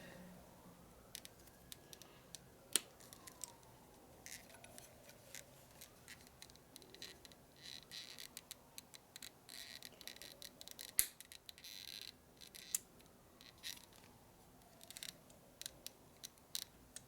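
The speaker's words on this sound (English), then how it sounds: "Cut at least a 1/4 inch off of the tubing here." Scissors or cutters snipping through tubing on motorcycle wiring on a 1970 Harley-Davidson XLCH Ironhead Sportster, faint scattered clicks and snips over a steady low background hiss, with a couple of sharper cracks.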